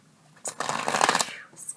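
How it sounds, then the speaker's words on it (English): Tarot cards riffle-shuffled by hand during a reading: a close, crisp burst of rapid flutter that runs for about a second before tapering off. "Get a couple more shuffles in."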